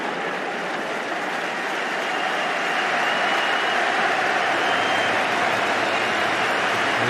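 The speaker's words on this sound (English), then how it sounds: "Applause for Sami Hyypiä's first warm-up run towards the cup" Broad, sustained applause rolls around a Premier League stadium at Liverpool versus Tottenham as Sami Hyypiä takes his warm-up run, a dense crowd roar that swells slightly and holds loud throughout.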